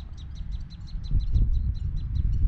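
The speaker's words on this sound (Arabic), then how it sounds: "يا سلام، طيور الأقلاق" Birds call outdoors in a Senegalese village, a rapid series of high repeated chirps running steadily through the clip over a low rumble of wind or ground noise.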